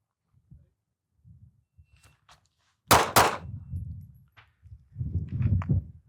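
A Glock 42 pistol fires two sharp, loud shots in quick succession midway through, set among quieter low thumps and shuffling before and after.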